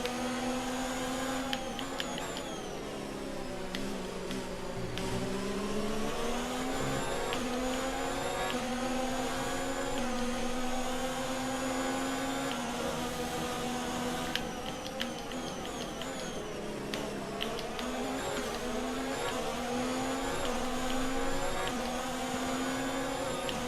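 Ferrari and Mercedes Formula 1 cars roar in the F1 2019 racing game at Bahrain, their engine notes rising and falling continuously as they rev through gears.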